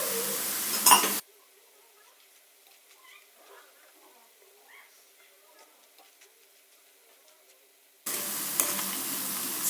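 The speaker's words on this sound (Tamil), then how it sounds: "இந்த எண்ணெயோட சலசலப்பு அடங்குற வரைக்கும் இருக்கணும்." Kara boondi fries in hot oil with a loud, close crackling sizzle, heard briefly at the start and again near the end, with near silence between.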